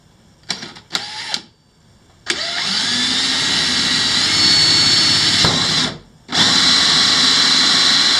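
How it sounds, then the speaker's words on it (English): A power drill bores a hole through a boat hull while a Perception Outlaw trolling motor is fitted. A few short trigger bursts lead into a long, loud, sustained whine that stops briefly and then starts again. "So we'll start in on a drill."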